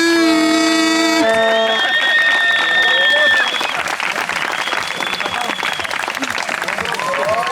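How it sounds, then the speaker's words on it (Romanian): Applause breaks out for the elite class at a downhill mountain-bike race award ceremony, dense outdoor clapping that rises after music fades and carries on steadily, with voices mixed in. "Aplauze pentru clasa"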